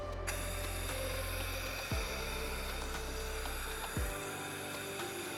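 Internal-diameter clamping tool running with a steady mechanical whir, with two distinct downward-sweeping pneumatic releases as the clamp engages and disengages, close and moderately loud throughout.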